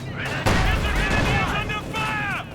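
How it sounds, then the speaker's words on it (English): A StuG assault gun fires in Company of Heroes 2: one sharp, heavy cannon blast near the start, followed by game sounds and a voice talking over it. "And there you go, Stug opens up."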